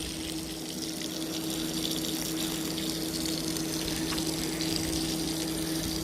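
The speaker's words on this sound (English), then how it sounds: "So here's our second rinse. This is after the shampooing." Carpet cleaning machine rinsing and extracting water from a wool rug after shampooing, a steady loud pumping hum with gushing water that runs unbroken throughout.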